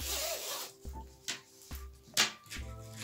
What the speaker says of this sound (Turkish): Dişleri plastik hırka fermuarı.